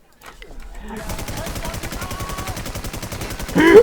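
Rapid automatic gunfire in a video game, a fast rattling burst of shots that starts after a quiet moment and continues loudly to the end, with a voice briefly heard.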